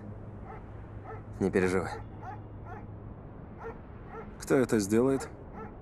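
A dog gives two bursts of high, wavering whimpering yelps. Quiet speech runs through the clip with a low hum under it.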